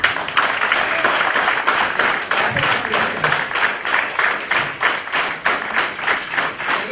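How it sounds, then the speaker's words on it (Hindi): An audience claps loudly and continuously for the boss during an office presentation, a dense, sustained wash of many hands with a steady rhythm and no talk. "आपको नहीं लगता कि एक जोरदार जबरदस्त वाली ताली इनके लिए होनी चाहिए?"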